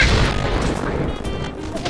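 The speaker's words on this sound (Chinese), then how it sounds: "他还把我的房子给炸了" A house blown up in Mini World: a loud, booming crash that is already at full force at the start, then rumbles and fades over about two seconds.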